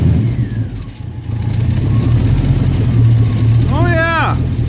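An LS-swapped 1967 Chevrolet Bel Air V8 with exhaust leaks runs at a loud, steady idle right after starting, a deep rumble that fills the clip, with a brief voice near the end.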